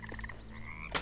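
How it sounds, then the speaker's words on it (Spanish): A frog croaks in the video game Bramble The Mountain King, a quick series of short rhythmic croaks over ambient game music, followed by a brief louder splash-like burst. "Oigo una rana."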